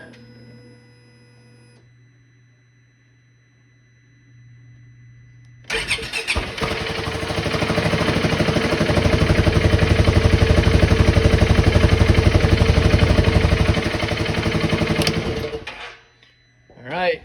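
A 2016 Polaris Ranger 570 utility vehicle with a newly replaced starter cranks and fires up after a few quiet seconds, then runs loudly and steadily close by for about ten seconds before cutting off abruptly.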